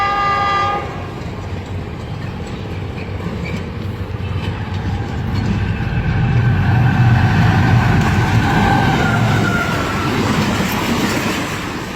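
The Jinnah Express roars through Mian Channu railway station at speed, sounding its horn at the start over a loud, steady rumble of wheels and cars that builds and stays close throughout.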